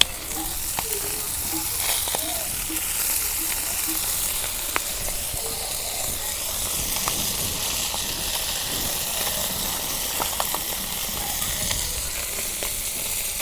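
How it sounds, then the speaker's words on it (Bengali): Small bata fish fry in oil in a pan in a village kitchen, giving a steady, even sizzle that holds for the whole stretch, close and moderate in level, with faint clicks and taps over it and no speech. "মাছ ভাজা হচ্ছে"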